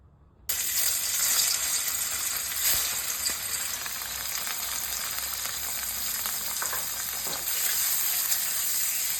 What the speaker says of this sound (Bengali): এই পনিরগুলোকে নুন হলুদ দিয়ে ভেজে নেব